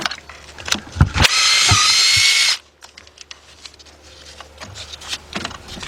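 A power tool whirs for about a second on the valve cover bolts of a 2007 Ford Focus 2.0, between clicks, knocks and small metallic handling noises close by.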